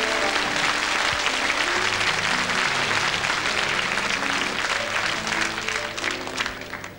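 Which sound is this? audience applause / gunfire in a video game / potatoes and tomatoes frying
audience applause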